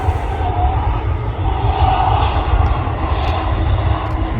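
An Embraer jet in TAP livery lands on a wet runway at Manchester Airport, producing a loud, steady broadband engine roar mixed with the rush of spray, heard from a viewing area some distance away.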